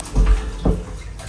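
A shower runs in a festival campsite stall at Les Ardentes, the water giving two brief splashing bursts over a steady low hiss, close and fairly loud.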